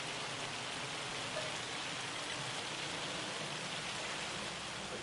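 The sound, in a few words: rain in the video game Farming Simulator 25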